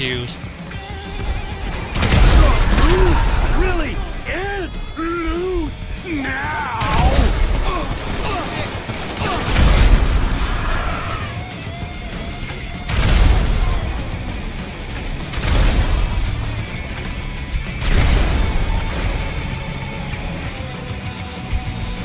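Grenade launcher blasts and gunfire in GTA V during a military rampage, a series of heavy booming explosions roughly every two to three seconds mixed with shots, loud and close, with someone shouting and talking between the blasts.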